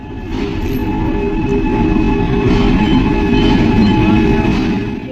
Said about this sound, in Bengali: এই যে দেখো আমাদের ট্রেনটা চলে এসছে